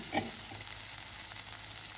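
Rice is stirred into masala in a pot while making pulao, with a soft, steady sizzle and faint scraping close by.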